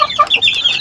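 Brief soft clucking from a mother hen with newly hatched chicks, close by, a few quick low calls with no talking.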